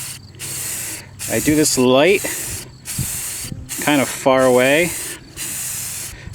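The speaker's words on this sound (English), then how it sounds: "Everybody knows how to spray paint." Short hissing bursts from a spray paint can laying down a gray base coat outdoors on a windy day, several separate sprays with someone talking between and over them.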